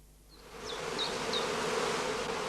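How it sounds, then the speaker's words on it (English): A dense, continuous hum of heather bees swarming around a skep apiary in the northern Lower Saxony heathland, rising in loudness early on and then holding steady, with a few faint bird chirps above it. "Early in the summer, the beekeepers allow their stocks to swarm in order to increase their skep colonies."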